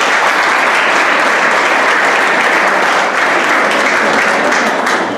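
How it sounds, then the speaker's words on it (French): A loud, dense wall of applause fills the hall from an audience at a business and finance event in Errachidia, continuous and even throughout with no speech. "Vos applaudissements, s'il vous plaît."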